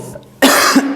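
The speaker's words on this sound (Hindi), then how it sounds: "इसी के कारण खांसी तो आएगी" A single sharp, loud cough bursts out close to the microphone, breaking a moment of near quiet from a teacher giving an online Sanskrit class.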